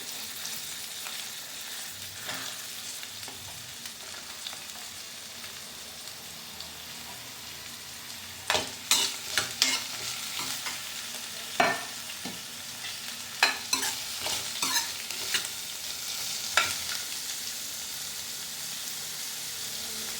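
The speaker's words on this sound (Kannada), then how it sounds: "ಇದು ಚೆನ್ನಾಗಿ ಫ್ರೈ ಆಗ್ತಿರಲಿ." Chopped onions frying in a pan, a steady close sizzle throughout with repeated scraping stirs from a spoon in the second half, no talking.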